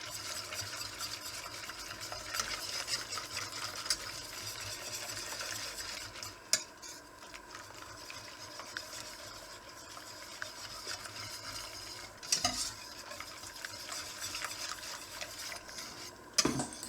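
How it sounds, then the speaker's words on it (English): A whisk stirring in a pan while making fish au gratin, a continuous soft scraping swish with occasional louder knocks against the pan, close and alone. "I think I'll use our whisk on this."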